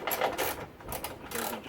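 A ratchet on a short extension works a small 10 mm nut on a Nissan Pathfinder or Infiniti QX4 headlight assembly, giving a steady run of quick, close mechanical clicks with no talking.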